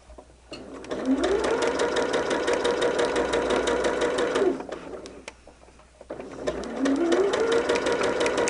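A sewing machine stitches quilt borders for a black bear block, running in two long steady bursts of rapid, even needle rhythm with a short pause between, loud and close.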